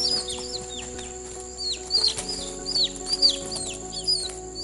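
A chicken used as bait inside a hawk trap, in a cage ringed with snares, clucks and chirps in short repeated calls over a steady background hum.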